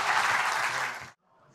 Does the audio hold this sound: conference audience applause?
yes